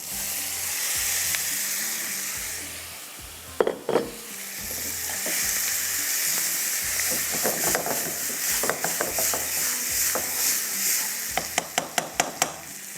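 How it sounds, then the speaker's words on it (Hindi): Chicken stirred into a sizzling pan with tomato paste, a steady frying hiss broken by scraping spoon strokes and a run of sharp metallic clicks near the end, close and alone. "अच्छी तरह से आपने मिक्स करना है। चिकन जाएगा,"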